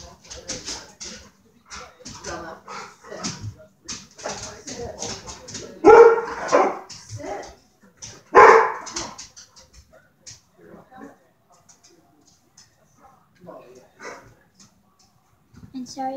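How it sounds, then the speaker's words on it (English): A pet dog barks, yips and whimpers indoors, with two loud barks standing out among softer whines, while a person talks over much of it. "That was just my dog."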